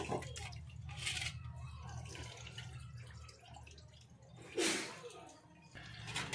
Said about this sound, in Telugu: ఇప్పుడు వాటర్తో కడిగేసుకుంటాను మొత్తం